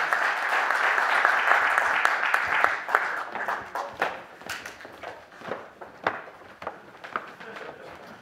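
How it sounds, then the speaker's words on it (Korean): Audience applause at the founding convention of a Korean political party, the Basic Income Party, starts as a dense, loud ovation and then thins out into scattered individual claps and shuffling as it winds down. "그리고 여기 모인 저희들을 위해서 또 큰 박수 한번 치면 좋겠습니다."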